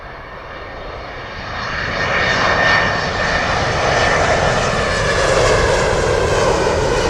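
United Airlines airliner from Chicago landing on runway 27 left at London Heathrow, its engines a loud, steady roar that swells and holds for several seconds with no talk over it.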